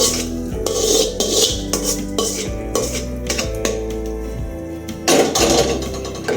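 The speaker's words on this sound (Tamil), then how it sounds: "நம்ம குக்கரில் வச்சுருக்க திணை திணை அரிசியில் நம்ம கொட்டிடணும்" Foxtail millet poured into a pressure cooker and stirred, with repeated metallic scraping and clanking of a spoon against the pot, loud and close, no talking.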